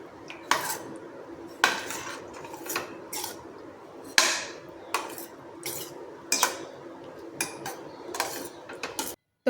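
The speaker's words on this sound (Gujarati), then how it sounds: "હવે આપણે બધું જ મિક્સ કરી લઈશું" A spoon stirs ragda peas with tamarind pulp in a metal pot, making repeated sharp clinks and scrapes at an uneven rhythm, close by and fairly loud, with no speech.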